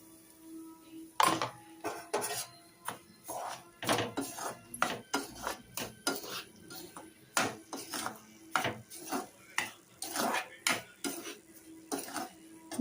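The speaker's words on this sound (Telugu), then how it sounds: "ఇప్పుడు మనం ఇదే బాండ్లీలోనే రవ్వనైతే వేసేసుకొని దీన్ని కూడా మనం ఫ్రై చేసుకోవాలి" Semolina (rava) dry-roasted in a pan, with a utensil repeatedly scraping and knocking against the metal in a steady, close rhythm of rattling strokes and no talking.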